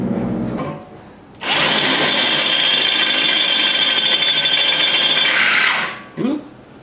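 A close, loud power drill spins a 1/4 inch bit for about four seconds, rising sharply to a steady high whine before stopping, with brief handling noise and faint voice sounds before and after, on a GS550 cafe racer build.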